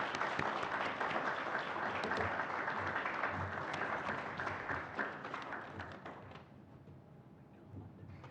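A conference audience applauds Dr. Hughes at a teacher education event, dense sustained clapping from many hands that fades out after several seconds, with no talking.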